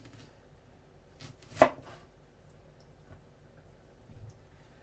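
A knife cuts through an onion to make rings, a few quiet taps followed by one sharp, louder chop against the board, then near silence with faint light knocks.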